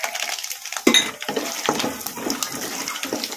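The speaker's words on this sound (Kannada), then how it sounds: "ಶೇಂಗಾ ಬೀಜ ಹಾಕೋಣ." Peanuts tipped into hot oil in a pan already spluttering with mustard and cumin seeds, a sharp rattling clatter followed by busy, uneven frying crackle close up.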